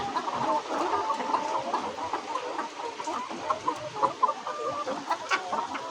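Eight-month-old laying hens sick with fowl cholera cluck continuously at close range. Their overlapping calls are busy and steady with no talking.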